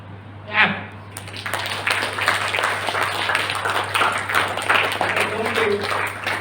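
An audience at an entrepreneurship skills training session claps in a dense, sustained round of applause with a person talking over it. A single louder sound comes just before the clapping builds.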